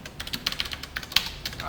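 Computer keyboard typing while writing code, quick irregular clicky keystrokes close up, with a slightly louder key press near the middle.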